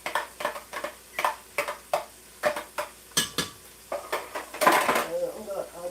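Onions going into hot oil in a pan for fried rice, with a run of regular spoon taps and scrapes against the pan, then a louder burst of sizzling as they hit the oil, close up.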